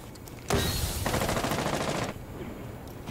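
Rapid automatic gunfire from a Rainbow Six Siege match, a loud sustained burst of shots lasting over a second and a half before dropping back to quieter game ambience.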